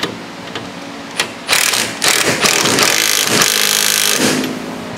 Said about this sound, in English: go ahead and get the nut started as well, and then cinch it down with an impact